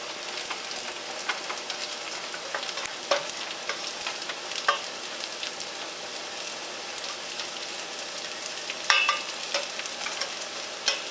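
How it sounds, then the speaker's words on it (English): Salted anchovies fry in oil while being stirred, giving a steady crackling sizzle like rain, with scattered sharper pops and scrapes, moderately loud and free of speech. "Just keep on stirring. Keep on stir. Because it has to be mixed with all the oil."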